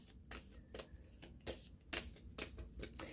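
A deck of tarot cards is riffled and shuffled by hand before a love reading, giving several quick crisp bursts of flapping card noise, close up and quiet, with no talking.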